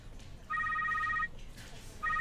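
A telephone rings in two electronic bursts, a long warbling ring followed by the start of another after a short pause, heard at moderate level over faint room noise.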